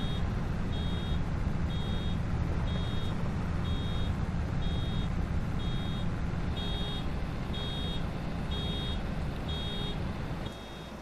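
Reversing beeps from a vehicle in the farming game Farming Simulator 25: a steady run of about eleven evenly spaced, high electronic beeps over a low engine rumble, with no talking.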